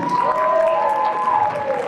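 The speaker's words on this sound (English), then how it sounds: "All right, round of applause, everybody." Audience applause at a Danny Phantom nostalgia convention panel in Anaheim, a steady wash of clapping from a crowd with some cheering, a sustained tonal whistle or voice running through it.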